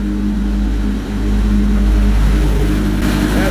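A motorcycle runs on a dyno treadmill in sixth gear, its engine held under load with a deep steady drone that swells as it builds revs, loud and close, with no talking over it.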